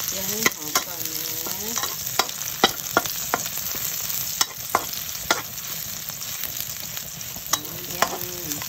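Garlic sizzles and crackles in a hot wok while a utensil scrapes and clacks against the pan in repeated strokes.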